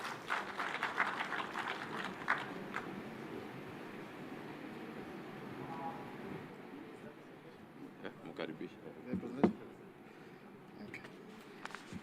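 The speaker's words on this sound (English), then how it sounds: "A clap for our CEO" An audience at the Devolution Conference in Homa-Bay claps for the CEO, a dense burst of applause that thins and fades after a few seconds, followed by sparse claps and background talk in a large hall.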